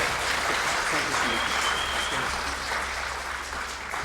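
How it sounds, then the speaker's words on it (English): A large audience at a Lunar New Year celebration gives a dense, continuous round of applause, loud and even throughout with a crowd murmur beneath. "one large round of applause for Trustee Pei for bringing us all"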